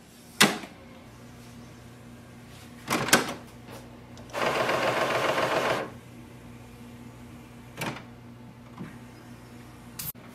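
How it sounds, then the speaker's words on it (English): Closing the front access door of an HP OfficeJet Pro 9120e-series all-in-one printer: a few sharp plastic clicks and knocks, one sustained rustling scrape in the middle, then more isolated taps, close and fairly quiet. "Close the door."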